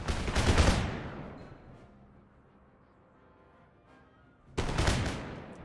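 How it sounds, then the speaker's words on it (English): Musket volleys from conscript infantry in the Empire Total War video game, a crackling burst of overlapping shots that fades out, then a second loud rattling volley after a lull. "they can just keep rattling off musket shots."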